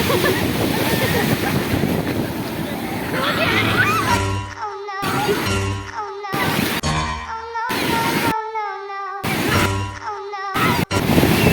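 Sea waves and surf at Puri beach roll in with a steady, loud wash and heavy wind buffeting the microphone, and the sound breaks up into choppy segments partway through.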